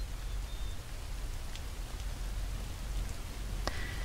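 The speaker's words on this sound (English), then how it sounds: "And now it's raining." Rain falls in a fantasy video game as it grows dark, a soft even patter with a few faint scattered clicks over the top, quiet and steady throughout.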